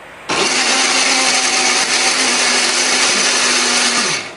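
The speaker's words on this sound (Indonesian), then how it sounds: "Bumbu ini akan kita haluskan menggunakan blender ya." A kitchen blender grinds a spice paste of shallots with a little water or oil for a tofu dish. It runs loud, steady and close with a constant whirring drone for about four seconds and then winds down.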